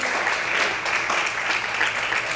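A church congregation claps and praises the Lord during an evening service, a loud, sustained wash of applause with voices blended in.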